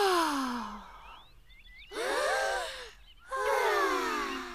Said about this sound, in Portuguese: Respirem bem fundo este ar tão puro